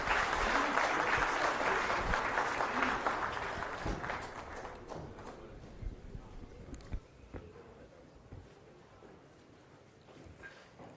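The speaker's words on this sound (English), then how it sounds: "Big round of applause please." Audience applause at a Telangana government event on the Musi River Rejuvenation Project, welcoming Chief Minister Revanth Reddy; dense clapping from a gathered crowd, loud at first and gradually thinning and fading over several seconds.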